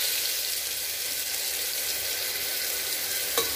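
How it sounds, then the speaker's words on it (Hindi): Ground spice paste for Punjabi-style chole frying in a pan with cumin, dried red chili and bay leaves: a dense, steady sizzle, close and even, with a single small clink near the end. "आप इसे 3 से 4 मिनट तक इसी तरह मिलाते हुए भून लें ताकि ये नीचे से चिपके ना"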